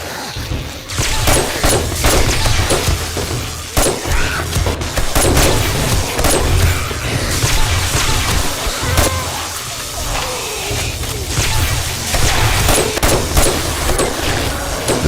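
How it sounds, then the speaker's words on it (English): Rapid rifle fire from a video game horde fight in a mega mall mission, loud and continuous with heavy booming thuds and crashes packed tightly together for the whole stretch. "The sounds of the rifle looks like it's not in sync with the footage."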